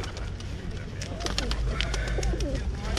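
Pigeons cooing at an outdoor pigeon fair, several birds heard close against a busy background of crowd murmur and rustling.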